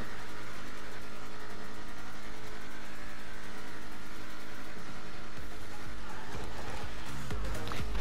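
Engine of the Imponte Ruiner ZZ-8 muscle car in GTA Online, a steady loud rumbling drone that builds in intensity toward the end as if revving up, heard alone without voices.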